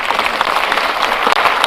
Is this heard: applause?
yes